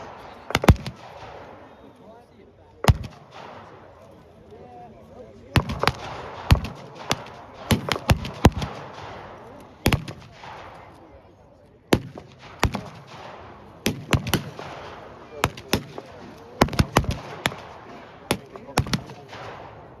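Blank-fire gunshots crack out at a WW2 re-enactment battle, sharp single shots and quick bursts scattered irregularly over a rumbling outdoor background, some close and loud, others more distant, with voices faintly present.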